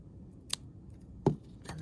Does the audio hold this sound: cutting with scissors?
yes